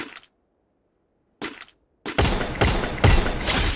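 Video game gunfire during a headshot kill, with two short sharp bursts separated by silence, then a loud rapid volley of shots lasting the final second and a half.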